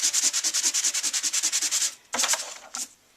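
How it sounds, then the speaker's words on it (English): Rapid back-and-forth rasp of a sanding block rubbing a surface, about a dozen quick even strokes, then a short pause and a few more strokes, close and crisp. "let me just sand a little bit more so you can see"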